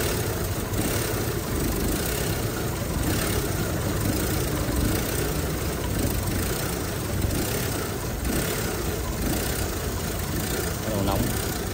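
A 2012 Chevrolet Cruze LTZ engine, said to have a knocking fault, idles steadily and close up, with a continuous low rumble throughout and voices talking faintly over it.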